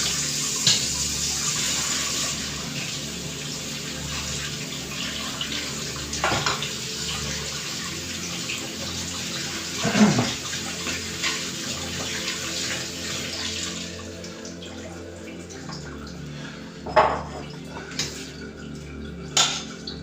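Cooked noodles are strained for beef noodles, with water pouring and splashing in a continuous wash and a few sharper clatters and knocks from the pot and strainer.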